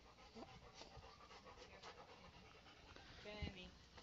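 A dog pants in rapid breathy bursts at close range, with brief speech and shuffling noises around it.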